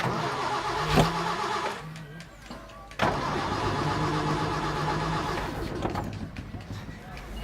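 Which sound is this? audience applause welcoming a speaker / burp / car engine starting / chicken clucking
car engine starting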